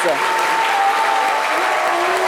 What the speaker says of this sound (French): Je vous invite, ici et maintenant, à regagner la scène. sous les applaudissements du public